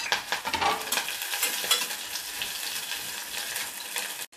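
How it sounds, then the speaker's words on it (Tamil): Chopped onions and green chillies sautéing in coconut oil in a cooker, a steady loud sizzle with stirring scrapes throughout and no talking. "இதில் இந்த வெங்காயம் போட்டுக்கலாம். போட்டு 1 நிமிஷம் வதக்கிக்கலாம்."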